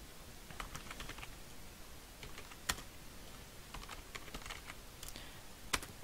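Typing on a computer keyboard while entering text in Filmora9 editing software: quiet, close keystrokes come in short irregular bursts, with a few louder key clacks standing out and no speech.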